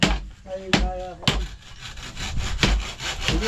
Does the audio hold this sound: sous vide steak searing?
no